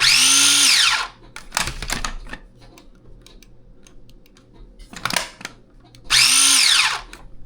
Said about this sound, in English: Fritos in the food processor? Because we're going to grind it.